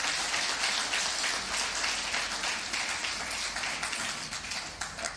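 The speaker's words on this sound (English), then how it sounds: "A round of applause to her." Conference audience applause, a continuous crackling patter of many hands at moderate distance, steady for several seconds and tapering slightly at the end, with no talk over it.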